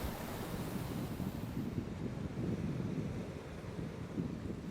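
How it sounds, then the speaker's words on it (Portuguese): Waves break against the rocks at Marvila beach in a steady, continuous wash of surf, mixed with wind rumble, with no voices. "O som predominante dessa praia da Marvila é o silêncio, juntamente ao som das ondas quebrando nas pedras."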